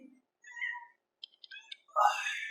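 A cat meows in a quiet room, a few short close-up calls with a longer, brighter meow near the end and small clicks in between.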